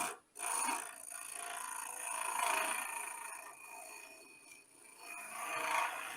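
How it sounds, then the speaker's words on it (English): A metal machine surface is worked by overhand hand scraping, producing a continuous rasping scrape in long strokes that rise and fall, close up, with no talk. "So this is more of a overhand sort of scrape."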